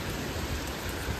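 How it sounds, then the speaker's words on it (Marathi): Rain falls in a dense, even hiss of steady wash, close and unbroken for the short stretch, with nobody speaking. "आणि हा पाऊस सोडून चालू झाला, कारण की वरती काही ढग नाही, अख्खं मोकळं आहे तरी पाऊस पडते बघा."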